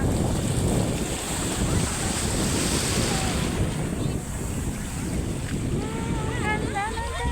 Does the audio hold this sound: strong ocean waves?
yes